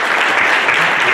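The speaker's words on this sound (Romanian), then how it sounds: "Bine ai venit, Adrian, vă rog în aplauze" A conference audience at a business and entrepreneurship event in a Bucharest hotel bursts into loud, dense applause, a brief close wash of many hands clapping at once.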